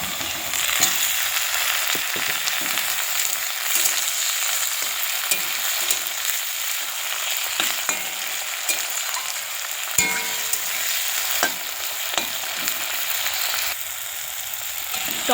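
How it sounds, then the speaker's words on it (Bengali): Onion and chopped tomato with green chilli sizzle and fry steadily in a pan, with frequent scraping stir strokes and small clinks throughout, close and moderately loud, no talking. "এবার আমি ওই পেঁয়াজটার মধ্যে সেই টমেটো কুচিটা দিয়ে দেব।"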